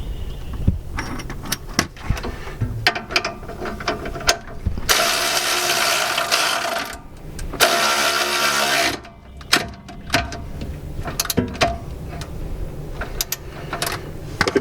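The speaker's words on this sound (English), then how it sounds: "tighten it down with the electric ratchet" An electric ratchet tightens a rear shock absorber bolt on a 1999–2004 New Edge Mustang, with a rapid mechanical clicking and whirring that swells into two loud continuous bursts amid scattered clicks.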